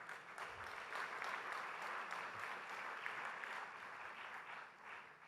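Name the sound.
round of applause at FICCI Frames inauguration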